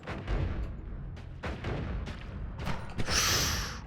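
A party bomb spell goes off in the game Noita, a run of muffled booming blasts with scattered crackles, ending in a bright hissing burst near the close; no voices.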